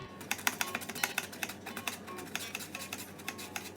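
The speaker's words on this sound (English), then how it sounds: "We want a very fine potato, so this slicer is a great way to save time and have our" Raw potatoes are pushed across a kitchen slicer into very fine, even slices, making a quiet, close series of quick crisp clicks and scrapes in an uneven rhythm.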